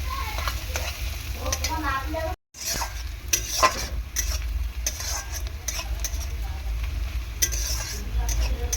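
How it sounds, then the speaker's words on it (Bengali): Onion frying in a pan for yogurt chicken, a close, steady sizzle with frequent scraping and stirring of a spatula against the metal, a brief silent gap, and a faint voice in the background. "পেঁয়াজটা ভালো করে ভেজে নেব একটু ব্রাউনি কালার করে"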